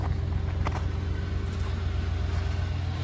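A 1993 Cadillac Fleetwood Brougham with black vinyl roof, its engine running with a steady low rumble and smoke from the back, a continuous even drone close by.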